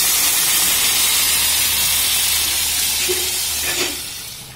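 Hot water poured into a pan of frying chicken curry, home Bengali chicken and potato cooking, gives a loud, steady steamy hiss and sizzle across the whole stretch, easing slightly at the very end.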